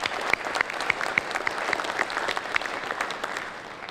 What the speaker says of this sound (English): I think you guys should give yourselves a round of applause